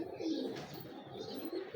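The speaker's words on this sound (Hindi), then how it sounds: "ये डोरों वाले कबूतर हैं," Pigeons cooing, soft throaty coos repeating at a middling distance over a faint background murmur, with no one speaking.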